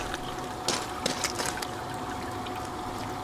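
Water runs through a GOLDROP gold separator with a constant close trickling rush and a few brief splashy surges, with no one talking.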